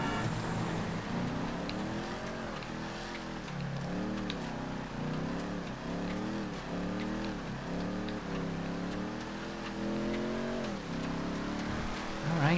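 Cars racing in GTA FiveM, with steady engine drone and repeated rising and falling revs as gears shift, several vehicles blending into a continuous roar throughout.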